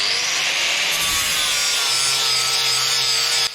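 A sanding disc on a power tool grinds continuously against a wooden knife handle with a loud, harsh abrasive rasp over the tool's steady whir.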